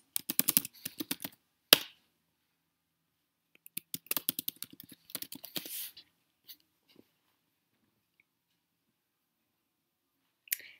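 An email address is typed on a computer keyboard in quick clustered bursts of crisp clicks, close and clear, separated by pauses and ending with a few isolated key presses.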